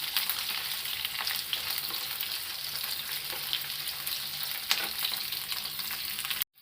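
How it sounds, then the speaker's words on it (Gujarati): Capsicum and onion shallow frying in a pan, a continuous close hiss of sizzling oil with light crackles and a brief stir, alone without talk. "હવે આ 2 વસ્તુ થોડીક શેલો ફ્રાય થઈ જાય"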